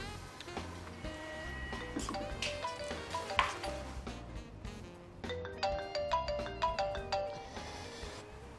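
A phone ringtone for an incoming call chimes in a repeating melodic pattern, moderately loud and alone in the scene, with a burst of bright rhythmic tones toward the end.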